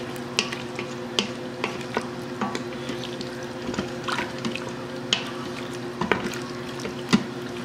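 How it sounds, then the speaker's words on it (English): Stew meat being stirred in beef broth inside an Instant Pot, with a spoon scraping the bottom of the inner pot in repeated soft clinks and wet scrapes over a steady low background hum, close and fairly quiet. "Stir that around, scrape in the bottom."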